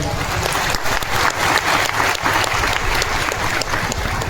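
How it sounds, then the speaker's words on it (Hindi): Loud, sustained applause from a crowd at a tribal rights day cultural gathering in Talasari, dense steady clapping filling the whole stretch without pause. "तो जोरदार तालियां बजा दें।"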